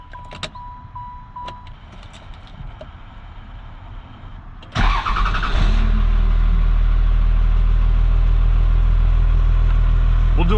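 A 1995 Dodge Ram 2500 4x4 diesel truck starts up after some quiet rustling, then settles into a loud, steady low rumble of idling close by.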